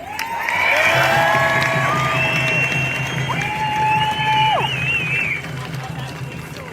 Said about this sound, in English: I think that you all deserve a big round of applause.